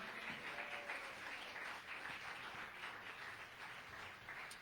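Church congregation applauding during a sermon, a soft, even patter of many hands clapping at a distance, continuous for a few seconds with no talk over it.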